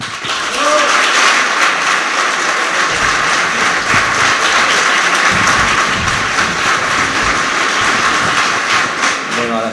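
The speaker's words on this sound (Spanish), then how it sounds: "Santiago Abascal, que le pido un fuerte aplauso para él." Sustained loud applause from a crowd at a VOX party political rally in Tenerife, a dense continuous roar of clapping with some cheering mixed in, lasting throughout.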